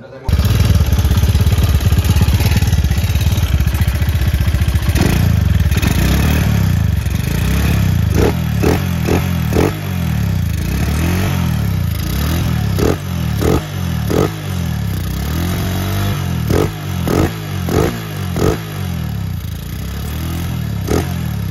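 A Tiger-spec motorcycle engine fitted with a Keihin PWK 32 carburetor runs loud and close, idling roughly with a series of short throttle blips and revs, and a voice speaks over it.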